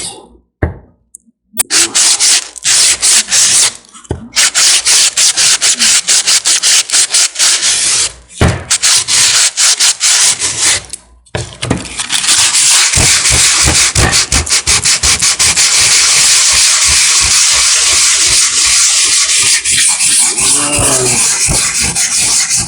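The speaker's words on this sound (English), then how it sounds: "ASMR of me just sanding," Coarse 80-grit sandpaper scrubs over Bondo filler on a miniature, close and loud, in a long steady run of rapid back-and-forth rasping strokes after a few scattered scrapes and short pauses.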